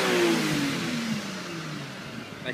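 A Mitsubishi FTO's 2-litre V6 engine revs high and then winds down, its pitch falling steadily as the whine fades, loud and close with no voices.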